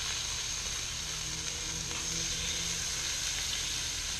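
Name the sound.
meat juice sizzling on a hot flat-top griddle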